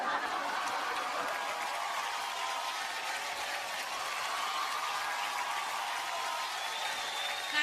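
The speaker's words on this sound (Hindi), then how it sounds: "तालियां होनी चाहिए।" Broad, steady audience applause fills a large hall at an awards show, continuous and even for several seconds with a faint crowd murmur beneath.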